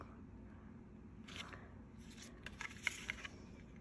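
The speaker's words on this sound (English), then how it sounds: "Cut that straight with my big scissors." Big scissors cut through card stock while a paper card is being made, giving a few short crisp snips and scraping cuts close by, quiet and irregular, with no talking.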